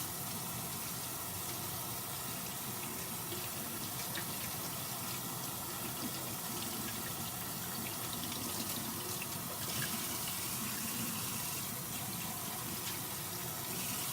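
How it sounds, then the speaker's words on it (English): A sponge clogged with carbon and GFO from a reef aquarium reactor rinsed under a running tap, giving a continuous, fairly faint rush of water with slight splashing changes, no talk. "I'm going to rinse that."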